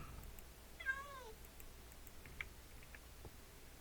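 A single short cat meow from the Minecraft Dawncraft game, faint and alone over a quiet background, followed by a few soft ticks.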